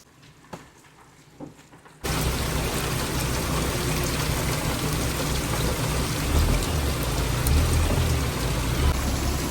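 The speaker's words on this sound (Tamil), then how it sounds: "மழை எங்களை வச்சு செஞ்சுக்கிட்டு இருக்கு" Heavy rain lashes a fishing boat at sea during a storm. After a couple of quiet seconds with faint knocks, a sudden loud, dense downpour roar starts and keeps up steadily, close and enveloping, with swelling low rumbles underneath.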